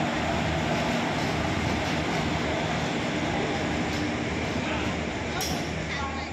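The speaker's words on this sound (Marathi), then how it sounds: "फायनली आपली ट्रेन रत्नागिरी स्टेशनला आली आहे" The Tutari Express 11004 pulls into Ratnagiri station, a steady loud rumble of rolling wagons filling the whole stretch, with no pauses and no talk.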